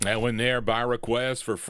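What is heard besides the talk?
No everyday noises stand out.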